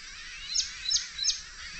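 A myna calls from a tree on a morning just after rain, three short, high chirps spaced evenly and sounding fairly faint over a quiet background.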